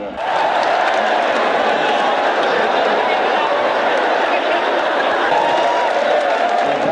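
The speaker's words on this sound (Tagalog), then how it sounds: "Lalong dumagundo ang hiyawan nang tumuntong nasa ring si Pacman." Dense, roaring arena crowd cheers and screams as Manny Pacquiao steps into the boxing ring, a loud, sustained wall of noise with no breaks.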